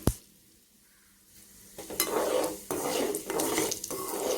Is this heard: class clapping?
no